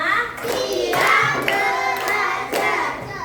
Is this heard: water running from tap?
no